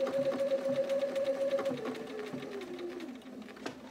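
A sewing machine stitches wreath appliqué onto a quilt, a close motor hum with quick needle pulses that slows and winds down near the end, no voices.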